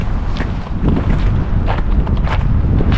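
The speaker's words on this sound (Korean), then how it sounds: "바람 오늘 더 많이 불다 그치?" Strong wind buffeting the microphone outdoors at a getaway cabin, a loud continuous low rumble with gusty swells and some faint rustling, no talking.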